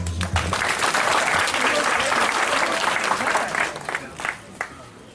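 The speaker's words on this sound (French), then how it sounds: "Est-ce qu'on va applaudir pour notre président?" Crowd applause for the president at a memorial anniversary gathering in Foumban, Cameroon, a steady wash of many clapping hands that fades into scattered claps.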